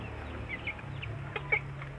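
Bangkok and village crossbreed chickens cluck softly in short scattered calls over a low background hum, fairly quiet and a little distant.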